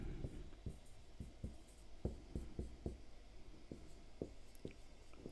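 Chalk or pen tapping and scraping on a board during a maths lesson, a run of sharp, irregular strokes and knocks close by over a soft room hiss, with no talking.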